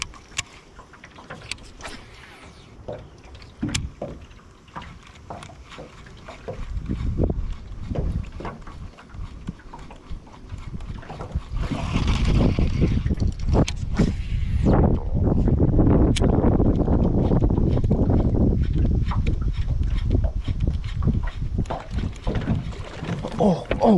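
Wind gusting over open water on a bass fishing boat, a steady rushing roar that buffets the microphone and grows stronger and louder halfway through, with faint knocks and rattles of the boat.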